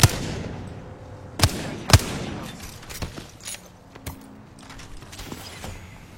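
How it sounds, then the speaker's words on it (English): Gunfire in a video game, with two loud sharp shots early on followed by quieter scattered pops and clicks against a low background rumble. "Getting shot at."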